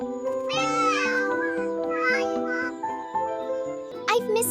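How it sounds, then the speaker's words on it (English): An animated cartoon cat meows in a 3D animation, giving a run of close, drawn-out, wavering meows that rise and fall, with a higher cry at the end. "Meow. Meow."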